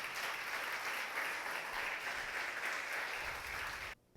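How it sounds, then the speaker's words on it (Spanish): A church congregation applauds during a sermon, sustained dense clapping at a fairly low level for about four seconds before cutting off abruptly near the end. "apláudale con ganas al Señor."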